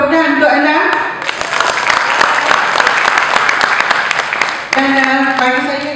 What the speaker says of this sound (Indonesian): Sekali lagi tepukan untuk anda.